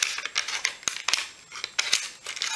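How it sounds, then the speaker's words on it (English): Scissors snipping material for a doll TV set, with quick, crisp cuts in an irregular rhythm heard close up and alone. "this can be tricky to cut, but you will get the hang of it. So I'm going to cut here"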